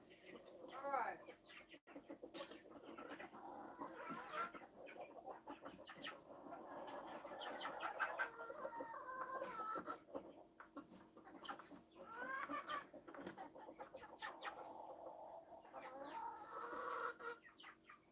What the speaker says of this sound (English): Don't even think about it, chickens.